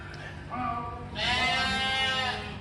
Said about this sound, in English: These are the sheep we bought, coming round.